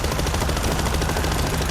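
Sustained automatic gunfire in the World War Z zombie shooter: a dense, loud and unbroken stream of rapid shots, close and continuous throughout with no talk over it.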